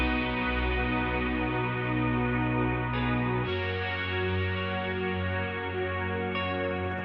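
Recreated guitar part of a song, a layered synthesized guitar line with effects, sustained chords changing around midway over a low bass note, steady and loud with no voices.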